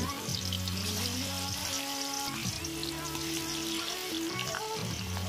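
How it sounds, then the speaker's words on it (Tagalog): Tofu (tokwa) strips fry in a pan for an Ilokano pork dish, giving a steady close sizzle and crackle throughout under a soft melodic backing. "Tapos ipiprito na natin siya."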